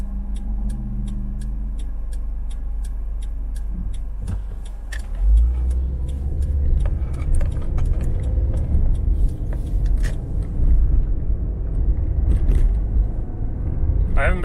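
Cars pass at a red light in a steady low rumble of traffic that swells after the first few seconds, with faint regular ticking over it and a person talking throughout.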